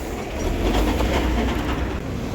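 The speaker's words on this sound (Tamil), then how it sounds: "பட்டுக்கோட்டை பிரான்ச் வண்டி போகுது." A Nagapattinam–Pattukottai branch line train rolls past close by, a steady loud rumble of wheels with faint clickety-clack running through the whole moment.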